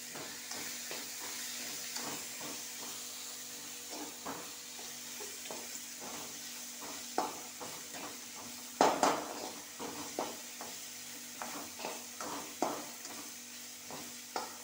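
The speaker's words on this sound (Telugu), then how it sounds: "కొబ్బరి పేస్ట్ వేసిన తర్వాత కొంచెం వేపాలి పచ్చి వాసన రాకోకుండా" Coconut paste frying in a pan, a steady close sizzle with repeated scraping strokes of stirring throughout and a sharper clatter midway, no talk.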